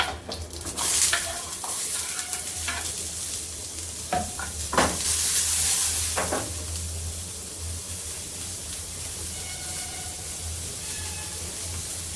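Onions sizzle in hot oil with mustard seeds and salt, stirred around a pan in a home kitchen, a steady close frying hiss broken by scraping strokes of the spoon early on, then settling into even sizzling.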